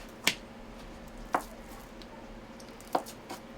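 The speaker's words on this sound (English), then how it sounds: "what I'm going to do is cut it into slices" A knife slices through a block of canned Spam on a cutting board, three separate sharp chops spaced about a second apart, close and fairly quiet with no talk.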